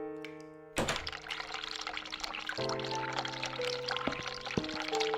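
Running tap water at a sink in the video game The Cat Lady, a steady rushing pour that starts abruptly after a thunk and continues loud and close, with sustained musical tones playing underneath.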